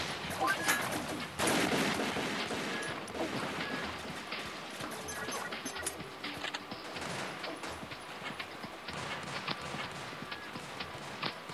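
Rapid bursts of machine gun fire from the mobile shooter Pixel Gun 3D crackle continuously and loudly, layered with other in-game gunshots and footsteps throughout the fight.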